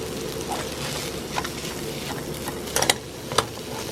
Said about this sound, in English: Just using a plastic spoon so I don't scratch the hell out of my pan